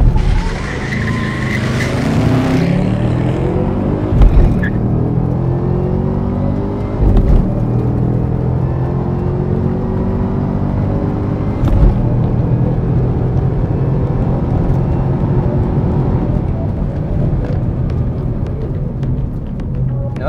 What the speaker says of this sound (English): Now that's the fastest way to launch a ZL1